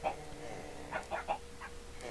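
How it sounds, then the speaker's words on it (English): Minecraft chickens clucking on a farm: several short, quiet clucks come in a quick cluster mid-way and another near the end, over a soft steady background. "Well, how are my chickens doing anyway? I got some chickens left."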